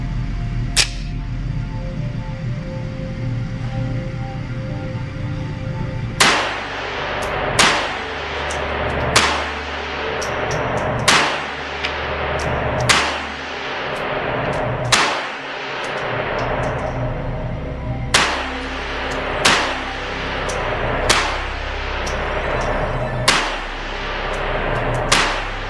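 A Tisas Fatih .380 pistol fires a string of sharp, loud reports at uneven intervals, roughly a dozen shots with brief ringing decays, heard outdoors without talk.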